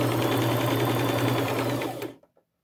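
A sewing machine runs one steady stitch down the center of fabric for an upcycled shabby chic necklace, whirring loud and continuous up close for about two seconds before stopping with a couple of small clicks.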